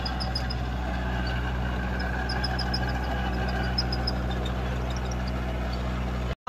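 A Kubota tractor pulling an Ambica 7-foot rotavator turns in a field, its engine droning steadily with a low rumble and light mechanical clatter throughout, then cutting off abruptly at the end.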